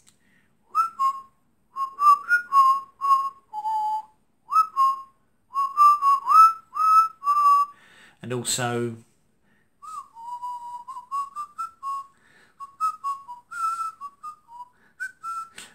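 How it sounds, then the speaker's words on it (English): A person whistles a simple tune in short, clear phrases with pauses between them, briefly broken by a couple of spoken words midway. "can you whistle?"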